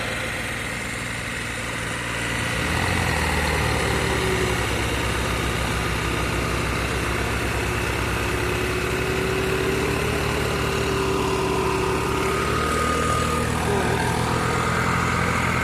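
Tractor engine running steadily while stuck in mud, a continuous low drone that rises slightly in loudness after the first few seconds and holds, with no voices.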